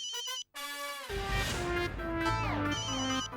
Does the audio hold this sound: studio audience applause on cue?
no